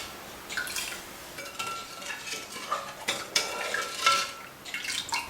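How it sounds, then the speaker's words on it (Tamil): A spoon stirs sugar and water in a pan for syrup, with soft scraping swirls and light metallic clinks against the pan, close and moderately quiet with no talk. "இந்த சர்க்கரை மற்றும் தண்ணீரை ஊற்றி ஒரு பாத்திரத்தில் போட்டு நம்ம கலந்து விட்டு"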